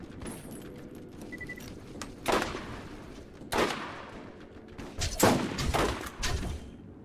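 Enemy gunfire in the video game Borderlands: several separate bursts of shots ring out over a steady low background hum, mid-distance and moderately loud, with no talk.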